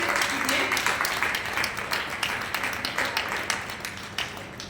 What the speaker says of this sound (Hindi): जोरदार ताली से स्वागत करें।